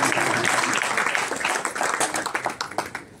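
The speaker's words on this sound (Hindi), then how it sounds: "पीछे वाली ताली बजा सकते हैं।" An audience claps together, dense and loud at first, then thins into separate, distinct claps that fade out toward the end.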